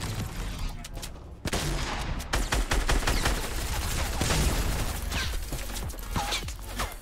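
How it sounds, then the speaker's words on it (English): Gunfire bursts rattle in a Fortnite Battle Royale match, rapid volleys of shots close by with crashes and mechanical clatter mixed in, continuing for several seconds. "I'm getting shot from behind."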